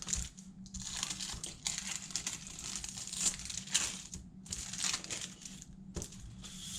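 Crinkly plastic packaging around a Serman Brands executive wallet being unwrapped, a steady run of close rustling and crackling with small sharp pops, no voices.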